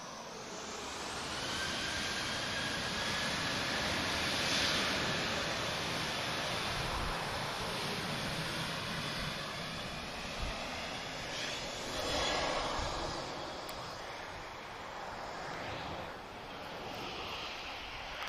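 A KLM Boeing 737-700 jet airliner operating a Transavia flight at Lisbon Airport, its engines a sustained, loud broadband roar that swells and holds throughout with wind-like rushing.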